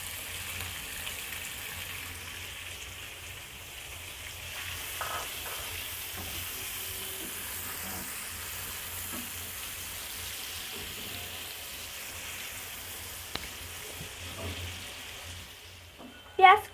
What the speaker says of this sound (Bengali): পেঁয়াজ কুচিটা নরম হওয়া পর্যন্ত ভেজে নিব।